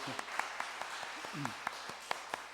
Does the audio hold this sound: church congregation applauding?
yes